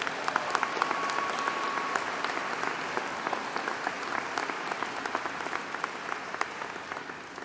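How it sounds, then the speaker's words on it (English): A university commencement audience applauds the band in a large hall, a dense, sustained clapping crowd that stays steady throughout. "Let's give them a big round of applause here."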